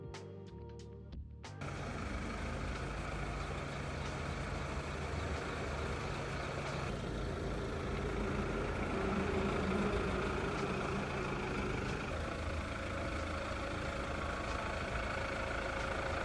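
A high-mileage Toyota Fortuner with a weak battery starts up after a brief crank, then its diesel engine idles steadily and loudly for the rest of the clip, close by.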